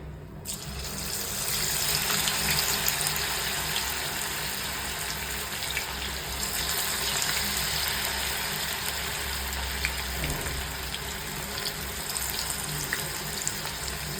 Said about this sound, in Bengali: তেল গরম হয়ে গেছে, এবার আমি অল্প অল্প করে দিয়ে ফ্রাই করে নেব